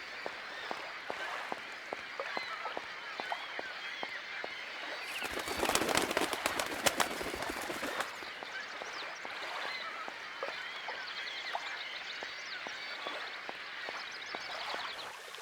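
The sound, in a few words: birds cooing and calling in the video game Syberia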